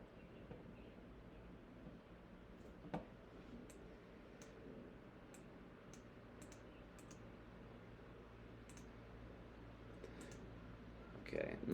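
A computer mouse clicks while working in an Excel spreadsheet: faint, sparse, separate clicks spread over a quiet room hum, with one slightly louder knock.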